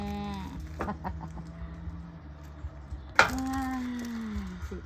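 Chickens clucking at a village coop, with harmonic calls from farm fowl and a sharp louder squawk midway followed by a drawn-out call, set against a faint rural background.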